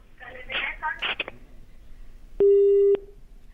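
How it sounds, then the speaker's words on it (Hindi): Someone speaks briefly on a phone-in call, then a single steady electronic disconnect tone sounds for about half a second as the phone line cuts off, fairly loud and close. "फोन डिस्कनेक्ट हो गया है।"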